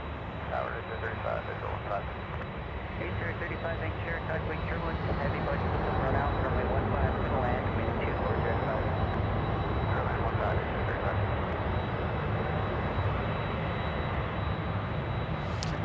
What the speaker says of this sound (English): We have another 747 that's going to be taking off very shortly. It's actually taxiing right now.